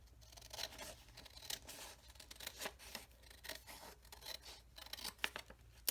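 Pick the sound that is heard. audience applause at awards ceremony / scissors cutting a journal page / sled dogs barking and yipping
scissors cutting a journal page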